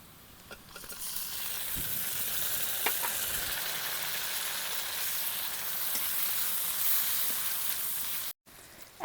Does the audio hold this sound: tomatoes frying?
yes